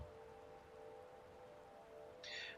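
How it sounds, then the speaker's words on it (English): Steady rain falls in a Skyrim game scene, a soft continuous hiss with a faint tonal hum running beneath, quiet and unbroken with no talk. "And it started to rain,"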